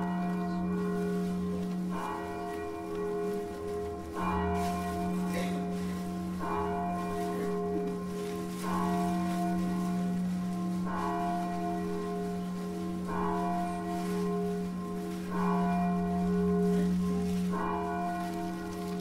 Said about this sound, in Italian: Campana di Longarone